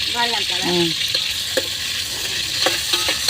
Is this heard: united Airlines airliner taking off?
no